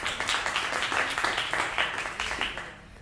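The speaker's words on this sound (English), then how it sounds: "Please give me a big applause." An audience applauds at a vocal department industry showcase, a crowd of steady, fairly distant clapping with crisp individual claps that holds level and then begins to fade near the end.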